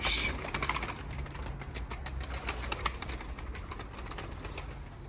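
Pigeons in a 75-year-old man's loft coo softly amid scattered wing flaps and light rustling and tapping, close and fairly quiet, with no talk.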